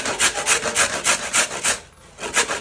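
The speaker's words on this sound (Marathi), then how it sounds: "आपण 1 किलो गाजरे घेतली आहेत, अशा पद्धतीने साफ करून स्वच्छ धुवून, आणि आता मी ही किसून घेत आहे" Carrots are grated by hand on a grater in a home kitchen, a fast even rasping rhythm of about four strokes a second, close and loud, with a brief pause before it resumes.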